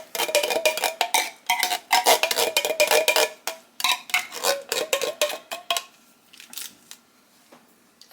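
Canned cheddar cheese soup being scraped out into a slow cooker, a rapid series of close metallic scrapes and clinks from a spoon against the can, then quieter faint taps near the end.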